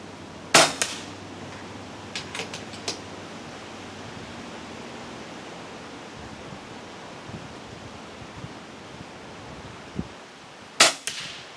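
FX STX air rifle firing NSA slugs: two sharp, close cracks about ten seconds apart, with a few faint clicks between them over a steady outdoor hiss.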